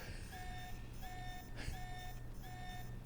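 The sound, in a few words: alarm going off in the video game Alpha Protocol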